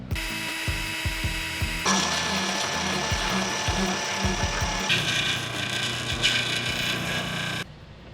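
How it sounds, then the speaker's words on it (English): A steady, harsh mechanical whine of a small high-speed rotary tool's cutoff wheel grinding through plastic, with uneven grating and shifts in pitch, continuous for several seconds. "So I'm just going to use the cutoff wheel on the rotary tool, which basically just melts it"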